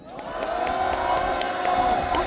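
A crowd at an outdoor political rally in Korea cheers and applauds to welcome a young speaker, a dense, loud, sustained roar with scattered whoops and claps.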